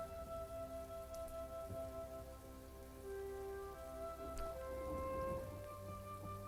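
Steady rain falling and pattering on surfaces, a continuous even wash of drops heard alone without voices, with a faint tonal hum running underneath.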